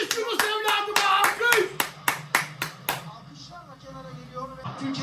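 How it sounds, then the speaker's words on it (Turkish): A crowd of Galatasaray football supporters claps in sharp, evenly spaced bursts while voices shout over them; the claps thin out after a few seconds. "Alkış!"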